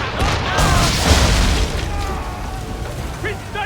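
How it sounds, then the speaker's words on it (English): Swivel guns fire in Assassin's Creed III during a naval battle, heavy booming blasts that roll into rumbling echoes, loud and close, with voices shouting over the action. "Use the swivels on him!"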